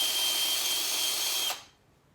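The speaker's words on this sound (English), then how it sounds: "And I'm just drilling from the side with the bit that I have." A power drill bores sideways to widen a hole in a lamp post, giving a steady, close, high whine that runs for about a second and a half and then stops abruptly.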